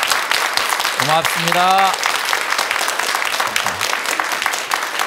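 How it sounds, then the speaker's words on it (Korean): A lecture audience gives steady, dense applause that fills the room, while a voice speaks briefly over the clapping partway through. "여러분들 하여간 이 박수가 여러분들 마음속에서 나온 박수인 거를 제가 느낍니다."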